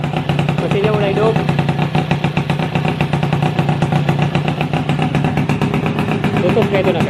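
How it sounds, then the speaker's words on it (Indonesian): An engine delivered from Jakarta runs steadily after being started, a close, loud rhythmic idle with mechanical clatter, while people talk over it now and then. "mesinnya udah hidup"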